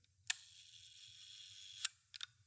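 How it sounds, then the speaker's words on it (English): The leaf shutter of a compact 35mm camera fires with a crisp, quiet click, followed later by another click and a quick pair of small mechanical ticks, close and alone in near silence. "It's so weird having a compact camera that's a leaf shutter."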